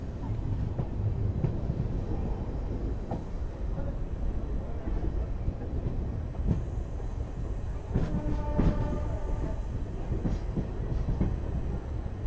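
Diesel-hauled Bengaluru–Tirupati Intercity Express running, a continuous rolling rumble with wheel clatter and wind buffeting, brief metallic squeals and clanks midway.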